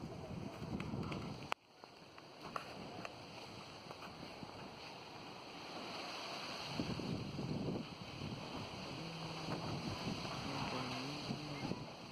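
Steady wind rushes across the microphone with gusty buffeting and rumble, continuing throughout with a brief thump early on.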